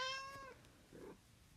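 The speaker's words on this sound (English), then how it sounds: "That's my cat" A single drawn-out cat meow, fairly close, followed by a short quieter mew; no talking.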